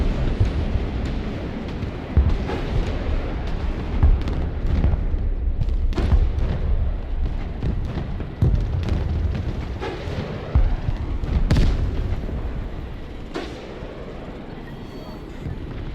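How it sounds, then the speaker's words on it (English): Lemur missiles striking targets in the video game Broken Arrow, a series of heavy booming blasts and rumbling impacts layered over continuous battle noise, with sharper hits scattered throughout. "These Lemur missiles, when they hit, they do a lot of damage."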